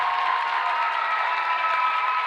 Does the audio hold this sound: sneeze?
no